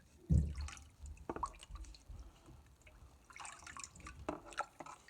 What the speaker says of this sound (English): I'm gonna add a little more water here